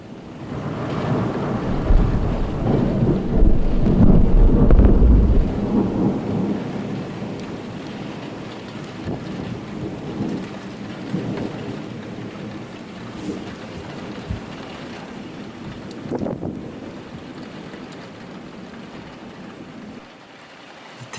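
Thunder cracks loudly overhead during a moderate winter storm with snow in Sallanches, a heavy rumbling burst early on that fades into a steady wash of rain and precipitation, with a second sharper crack near the end.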